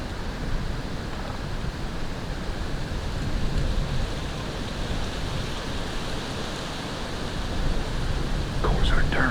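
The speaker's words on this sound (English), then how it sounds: "Of course, our darn wind." Steady wind blows outdoors through an Iowa hardwood forest, a loud, constant broadband rush with slight surges, close to the microphone throughout.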